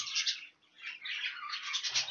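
Dense, harsh chattering and squawking from several birds close by, nearly continuous with a brief dip before resuming.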